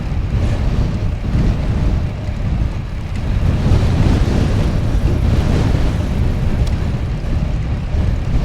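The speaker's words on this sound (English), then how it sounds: "I'm riding straight into the wind" Heavy wind roars across the microphone of a cyclist riding straight into a headwind on a road, a loud, steady low rumble with gusting swells and no talk.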